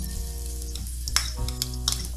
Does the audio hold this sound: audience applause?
no